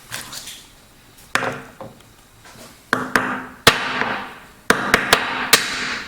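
Repeated spine whacks of a Knafs Lander liner lock knife struck against a hard surface, sharp loud impacts arriving in irregular clusters with brief ringing decay between them.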